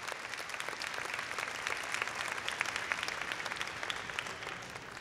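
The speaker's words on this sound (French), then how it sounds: "une main d'applaudissement pour les gens" A crowd at an evening community event in Mirabel gives sustained applause for the volunteers, a dense, even patter of many hands clapping at moderate distance.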